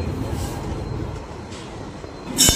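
Local passenger train running in Assam between Pancharatna and New Bongaigaon: a steady, moderate rumble of wheels on the track with faint clatter, then a sharp metallic squeal near the end, with no voices.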